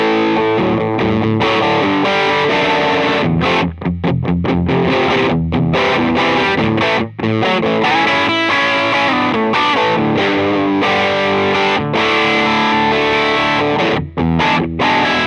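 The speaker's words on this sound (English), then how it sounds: "it's going to give you a really great overdrive sound" An electric guitar played through a fuzz pedal set with no clipping diodes gives a loud, thick overdriven tone, with chords and riffs chugging along with brief rhythmic stops and no talk.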